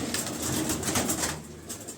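Domestic pigeons cooing in a loft or yard, a steady murmur of overlapping low coos with rustling and faint wing flutter, moderately close with no talk.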